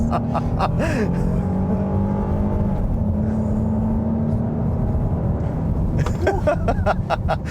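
A 2025 Kia Carnival SX-Prestige minivan accelerates hard from a standstill with traction control off, its engine droning loud and steady from inside the cabin as the revs climb, with brief voices near the start and end.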